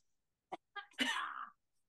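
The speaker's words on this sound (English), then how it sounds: "I got a cough again." One person coughs in a short burst: a brief catch, then a harsh, drawn-out rasping cough, close and fairly loud against near silence.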